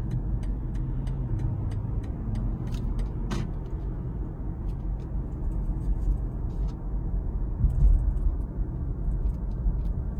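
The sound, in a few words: small sports car passing by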